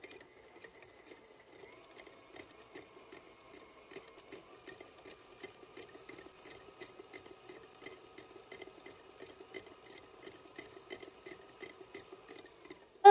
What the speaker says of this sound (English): it into your mixer and letting it mix by itself so it loosens and actually becomes creamy